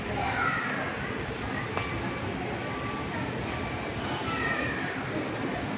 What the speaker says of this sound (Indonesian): Jadi di stasiun Lempuyangan dia cuman lewat aja, jalan terus. Nah itu keretanya.